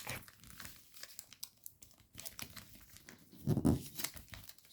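Origami paper being folded and flattened for a model tank, with close crinkling, rustling and pressing sounds in irregular bursts and a louder crinkle near the end.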